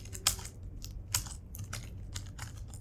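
Quiet clicks from a computer keyboard as a filename is typed into a code editor: a light, uneven run of keystrokes, close and soft, with no speech.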